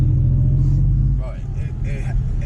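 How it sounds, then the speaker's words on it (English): An Audi S4 with a suspected blown transmission strains while accelerating, its engine droning with a low, uneven rumble that stutters and drops partway through, close and loud, with brief voices over it. "the only thing I could think of is it's misfiring that bad"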